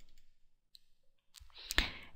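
A computer mouse clicks during a WordPress tutorial, a single sharp click standing alone after near silence.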